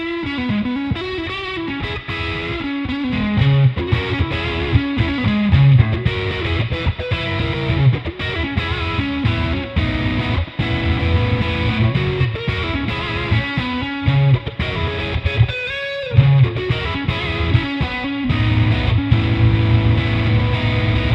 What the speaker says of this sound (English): let's go ahead and listen to my favorite distortion effect on this pedal